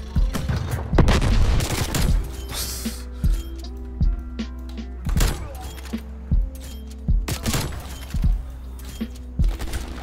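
Rapid gunfire from a multiplayer Call of Duty Black Ops Cold War match, with repeated sharp, punchy shots and metallic clinks in quick bursts, close and loud, while a player talks over the action.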